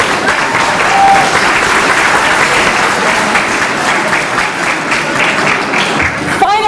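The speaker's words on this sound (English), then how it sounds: "Let's give you all a round of applause." Sustained applause from a large audience at a CAIR event with interfaith friends and allies, steady dense clapping filling the room for several seconds before tapering off at the end.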